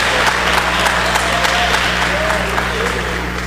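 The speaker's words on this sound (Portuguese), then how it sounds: "Dê uma salva de palmas ao nome do Senhor Jesus." A church congregation claps during a Portuguese-language evangelical service: steady, loud, continuous applause fills the room, with a low electrical hum and faint voices mixed underneath.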